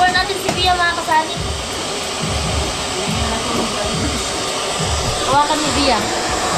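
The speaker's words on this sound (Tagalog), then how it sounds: "Tapos i-blower natin dun sa loob." A handheld hair dryer blows steadily on someone's hair in a home styling session, a loud continuous close-up whoosh that runs through the whole stretch with faint voices occasionally underneath.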